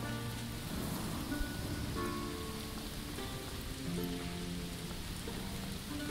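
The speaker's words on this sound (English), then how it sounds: "It's also raining." Steady rain pours down in the medieval city-building game Manor Lords, a dense, continuous hiss of drops on surfaces that stays even and fairly close throughout, with faint tonal game sounds underneath and no talking.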